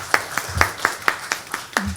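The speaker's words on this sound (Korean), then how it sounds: "박수로 맞이해 주십시오." Audience at a Korean health and welfare research forum clapping in welcome: a few sharp, fairly even claps in quick succession, close and clear, with no talking over them.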